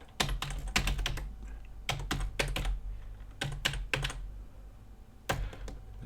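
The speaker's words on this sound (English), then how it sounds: "If I could type it right." Computer keyboard typing comes in quick clustered bursts of keystrokes with short pauses between, close and fairly clear in a quiet room.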